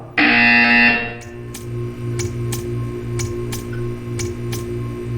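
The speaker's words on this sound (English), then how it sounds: "You will hear a buzzer." A loud, steady electronic buzzer from the Portal 2 video game sounds for about a second, then cuts off, leaving a low hum with a regular series of sharp ticks.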